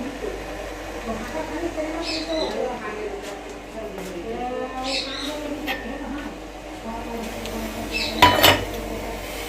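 Cups and bowls clink softly as boiled tea is poured out and served in a home kitchen, scattered light clinks over background chatter and a brighter clatter near the end.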